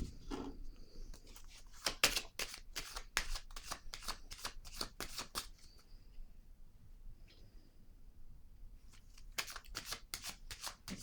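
Oracle cards shuffled in a quiet room, a burst of crisp riffling snaps at the start, then a steady run of clustered card flicks with brief pauses and a final flurry.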